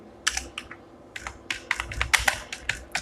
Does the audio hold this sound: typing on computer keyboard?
yes